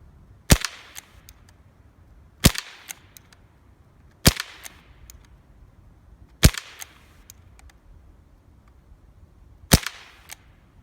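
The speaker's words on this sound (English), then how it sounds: "we'll give 5 at the center target there" Five sharp shots from a Benjamin Wildfire PCP air rifle fired at targets, each a crisp loud crack with a brief ringing tail, spaced about two seconds apart, alone with no talking.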